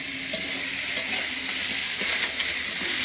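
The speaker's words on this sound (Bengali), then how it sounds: "ভালো করে মশলাটা ভাজা হয়ে গেছে" Ground spices (chili powder, turmeric and salt) fry in a pan under a constant hiss, broken by several sharp scrapes and taps as they are stirred.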